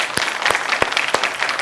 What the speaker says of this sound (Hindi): जोरदार तालियां तमाम मेहमानों के लिए।